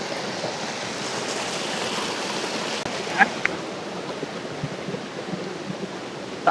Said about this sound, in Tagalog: Ito yung ibabaw ng Catmon Falls.